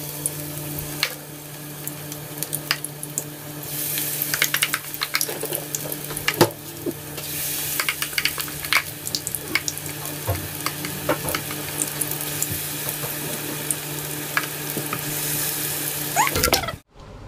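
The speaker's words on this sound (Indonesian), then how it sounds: "Sekarang saya mau goreng bakwan karena Batan ya suka sekali sama bakwan." Bakwan vegetable fritters frying in hot oil, a continuous sizzle with frequent pops and crackles and a steady low hum beneath, ending abruptly.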